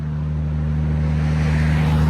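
Steady road traffic along a highway beside an Appalachian Trail campsite, a loud continuous low engine drone and tire rumble from nearby cars and big trucks with no voices.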